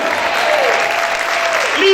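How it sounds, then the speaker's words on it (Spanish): A church congregation applauds in a brief burst during a worship service, dense clapping with voices and a cry rising above it. "Grite y aplaude fuerte al Señor"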